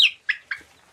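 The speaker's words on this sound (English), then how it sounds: "Here's the chicken." A chicken in a backyard coop gives three short, close, sharp clucks in quick succession.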